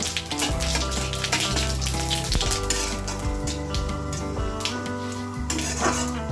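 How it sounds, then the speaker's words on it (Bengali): Cumin seeds, bay leaf and dried red chilli sizzle loudly in hot oil left over from frying lentil fritters. The steady crackling frying continues throughout, with occasional clinks of a stirring utensil against the pan. "ভালো করে ফোড়নটাকে ভেজে নেব।"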